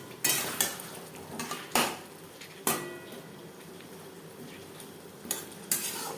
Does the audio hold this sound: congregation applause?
no